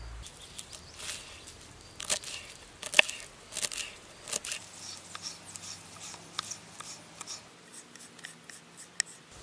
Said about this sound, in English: You go to your garden. You cut some cilantro,